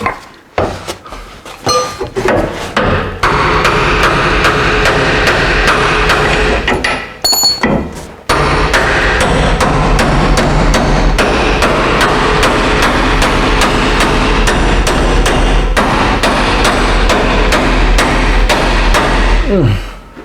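Sharp hammer blows ring out on a damaged metal RV axle in a rapid, regular rhythm, loud and close, with a short pause partway through.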